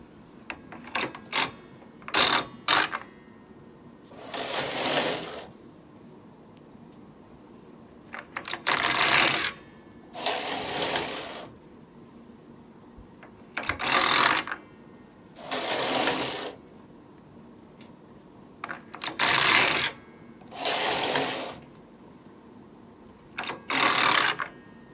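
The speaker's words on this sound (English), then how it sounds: "So I'll knit a few more rows and I'll let you see the sample." A Knitmaster 6500 knitting machine with a Ribmaster attachment knits 1x1 rib rows: about a dozen rhythmic mechanical rasps as the carriage is swept back and forth, close up, with short quiet gaps between passes.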